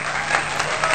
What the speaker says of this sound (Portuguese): bota palmas aí pra mim.